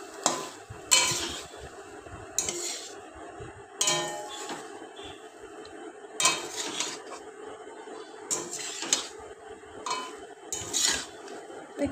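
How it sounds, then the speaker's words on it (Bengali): Boiled macaroni pasta stirred with a spatula in a pan with egg: scraping, clinking strokes of metal against the pan in irregular bursts over a low steady sizzle, close and without voices. "এবার ভালো করে খুন্তির সাহায্যে নেড়ে নেড়ে আমরা এটাকে মিশিয়ে নেব"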